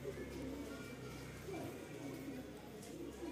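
A Rampuri pigeon with a band tail gives soft, low cooing, faint and close, while people talk nearby.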